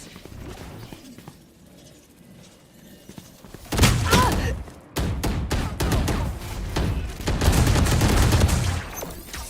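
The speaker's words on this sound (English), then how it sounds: "Placing swarm grenade. Swarm grenade out." Valorant match gunfire: bursts of loud gunshots and impact thumps crowd close together after a quieter opening, sounding like a firefight, with no swarm grenade clearly picked out.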